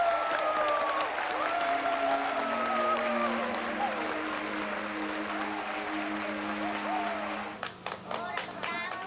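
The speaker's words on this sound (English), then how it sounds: "the audience bursts into applause" A village audience in Battambang province, Cambodia, applauds at the end of a film screening, a broad wash of clapping heard under a narrating voice, growing sharper near the end.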